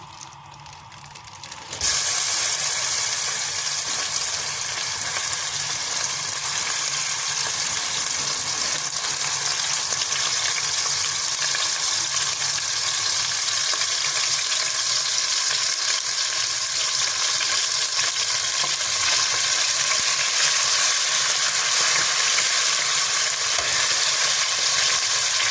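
Marinated, cut chicken breast hits hot vegetable oil and fries in a loud, steady sizzle that starts abruptly and holds at an even level throughout, close and unbroken.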